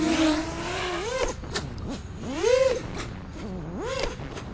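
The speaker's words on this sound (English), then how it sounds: "You can also hear the motors are a little bit louder, like they spool up more because they're getting that quad to rotate more." Quadcopter drone motors whine and surge in pitch, spooling up and down repeatedly as the craft flips and rolls, with a steady buzzing underneath.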